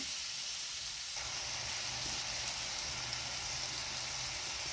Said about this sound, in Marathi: कांदा टाकून आहे ना चांगलं परतून घेऊ लालसर होईपर्यंत.